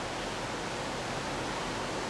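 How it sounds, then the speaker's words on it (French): Icy mountain torrent rushing at the Saman shrine site in Sri Lanka, a steady, dense broadband roar of water with no breaks, fairly close and uniform throughout. "C'est un torrent glacé."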